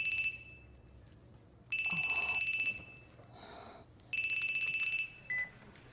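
A telephone rings in a Japanese drama scene, with two clear electronic ring bursts and a third cut short, each separated by pauses; the rings are fairly loud, with no talking over them.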